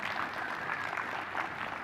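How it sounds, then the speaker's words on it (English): Steady audience applause at a 2018 education summit, a dense even patter of many hands clapping without a break and with no voices over it. "Now, you should applaud yourself here."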